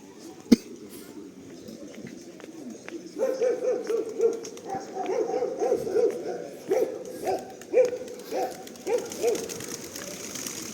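A dog barks repeatedly in a steady series from a moderate distance, hoarse and rhythmic, after a sharp knock near the start.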